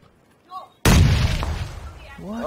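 A grenade explosion in the video game PUBG: one sudden, loud, close blast that rolls off into a long rumbling decay, with a brief voice just before it and another as it fades.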